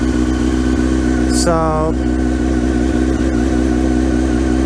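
A motorcycle, back out for its first ride of the 2021 season, runs loud and close at a steady idle after starting up, with a brief word spoken over the engine.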